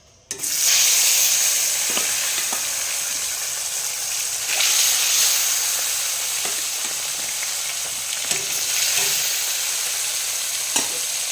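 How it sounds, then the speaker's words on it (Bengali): Snakehead fish sizzling loudly in hot mustard oil, a dense crackling hiss with swells as pieces shift and a few soft stirring knocks. "মাছগুলো ভালো করে ভেজে নেব"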